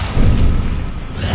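A spell explosion from Confringo cast in the video game Hogwarts Legacy, a loud, dense, low rumbling blast that sustains briefly without a sharp attack.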